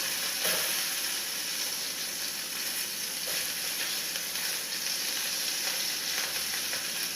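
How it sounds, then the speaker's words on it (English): Sausage sizzles and crackles steadily in a frying pan at breakfast, a continuous close hiss with a few brief pokes and clinks. "I'm poking my sausage."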